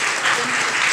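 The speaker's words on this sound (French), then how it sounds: "Bravo, on l'applaudit." An audience applauds a contestant at a French spelling bee with brisk, dense clapping throughout a brief burst, fairly close and loud.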